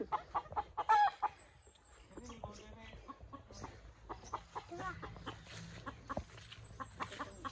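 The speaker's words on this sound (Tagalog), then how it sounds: "Oh, napay manok." Chickens cluck and squawk in short bursts nearby on a farm, with scattered calls over a farmyard background and some faint talk.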